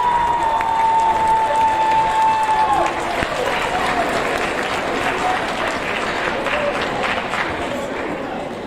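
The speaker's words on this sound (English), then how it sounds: "Let's give them a round of applause." A crowd at an 8th grade awards ceremony applauds students, a broad, sustained wash of clapping with some cheering that swells after an announcer's voice and then holds steady, slowly fading.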